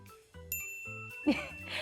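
A bright notification bell ding rings out in a short jingle with a sustained high tone, set over a brief musical backing, with a quick burst of noise near the end.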